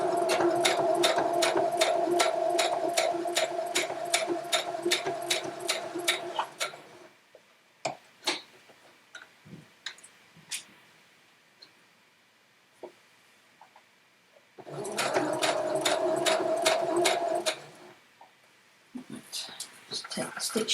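A sewing machine stitching a quilt runs in two close, loud bursts of rapid rhythmic needle ticking, separated by quieter clicks and handling sounds, with a person talking at times.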